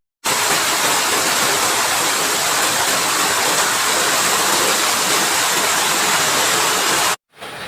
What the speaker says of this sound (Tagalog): Ang lakas pa din ng ulan